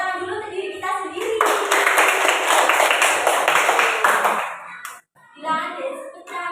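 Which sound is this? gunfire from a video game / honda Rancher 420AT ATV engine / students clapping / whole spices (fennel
students clapping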